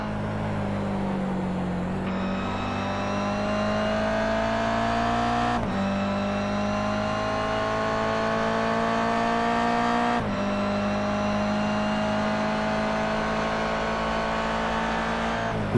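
Race cars in the iRacing sim at Motegi, including Toyota GR86 and Mazda MX-5 touring cars, drone loudly and steadily through the whole stretch, engine pitch climbing through gears with sharp shift breaks and faint tire squeal.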